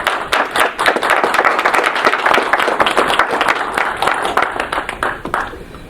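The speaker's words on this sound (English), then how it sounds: "please join me in giving them a round of applause" An audience at a Grand Rapids city press conference gives a round of applause to driving school instructors. The many hands clap in a loud, close, rapid burst that carries on for several seconds before it thins out and fades.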